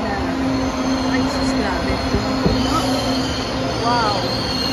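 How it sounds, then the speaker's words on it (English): Train passing near the Carmelite Monastery in Gilmore, Quezon City, its wheels squealing in a long steady high whine over a loud, constant rumble, with a few brief clanks partway through. "Ayun ang train."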